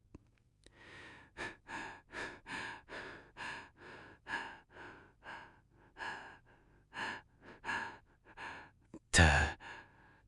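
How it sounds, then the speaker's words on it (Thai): Ragged, uneven breathing comes over a phone line in a quiet late-night horror story. About a dozen distinct breaths and sighs follow in a halting rhythm, ending in a sharp, louder gasp. "เสียงหายใจขาดขาดหายหาย ดังลอดออกมาในความเงียบ"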